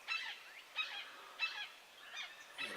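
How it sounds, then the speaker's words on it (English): Wild birds call at dawn over a Kentucky field, five evenly spaced honking calls about every two-thirds of a second, moderately near and alone. "Got a bunch of other weird birds."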